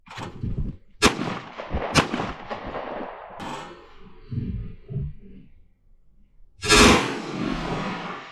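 Shotgun blasts fired at thrown clay targets outdoors: a short burst of sharp, loud reports close by, separated by quiet gaps, with one final heavy shot and its lingering tail.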